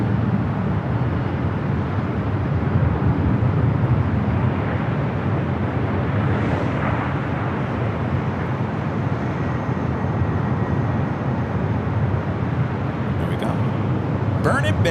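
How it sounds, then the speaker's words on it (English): A Delta heavy jet takes off from runway 4 left at LAX with a broad, sustained rumbling roar that stays loud and steady throughout, while people talk over it. "The Delta Heavy heading to JFK. Next takeoff to 4 left."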